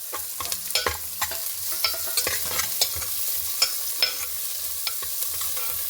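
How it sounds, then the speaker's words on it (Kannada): Chopped onions fry with popped mustard seeds in hot oil for tomato rasam, a steady close sizzle broken by frequent sharp clicks and scrapes of a spoon stirring the pan, with no talk. "ನೀರುಳ್ಳಿ ಹಾಕಂತ ಇದೆ. ಒಂಚೂರು ಕಂದು ಬಣ್ಣ ಬರುವಷ್ಟು ಹೊರ್ಕೊಂಬ."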